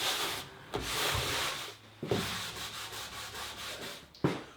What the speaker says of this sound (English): I'm using a wet rag and making sure I remove any glue from the top before it sets up.